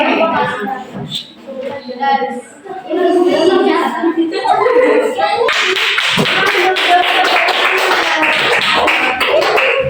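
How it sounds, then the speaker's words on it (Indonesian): A class of children applauds a classmate, starting with scattered voices and chatter, then breaking into loud, sustained, dense clapping close by that continues to the end. "Jangan malas-malas sama tepuk tangannya."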